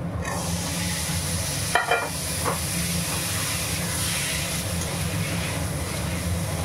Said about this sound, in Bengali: এটা কষে নিই ভালো করে।